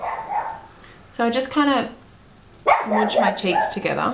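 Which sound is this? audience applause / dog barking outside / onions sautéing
dog barking outside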